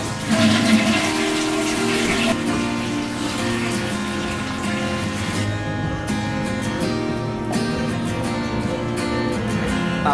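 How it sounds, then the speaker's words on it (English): A toilet flush roars loudly as a steady rush of swirling water for about ten seconds, with gurgling and trickling as it drains and refills. "Don't forget to flush the toilet."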